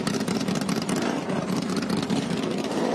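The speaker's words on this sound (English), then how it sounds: "They're starting to fire up these Ligier Storms. Ligier Storm, the V4 by Ligier Storm is very good. By Super HP, you can hear the engines going." Ligier race car engines run before a race at VIR, a busy distant rumble of several motors with fluttering exhaust pulses, steady and moderately loud.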